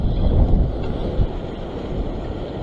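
Surging ocean swell and wind at a rocky fishing point near Sydney, Australia, roar as a loud, close rush of low noise with microphone buffeting, fading slightly after a strong first surge.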